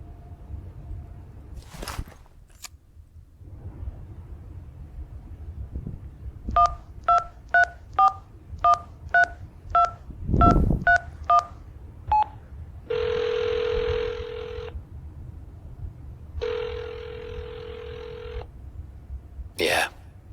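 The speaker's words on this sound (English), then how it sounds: "Dial the number." Telephone number dialed in a video game: a quick series of about ten DTMF keypad tones in an uneven rhythm, followed by two longer buzzy ringback tones and a few clicks, fairly close and clear.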